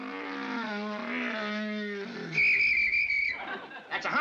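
A man whistles a warbling, wavering imitation of a hummingbird call, clear and close, followed by a higher sustained whistle and a brief burst of other noise.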